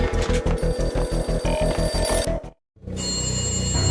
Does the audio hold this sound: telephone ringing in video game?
yes